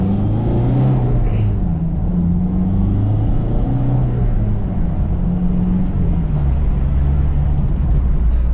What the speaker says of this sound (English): show you guys a little downshift from 5th gear to 3rd gear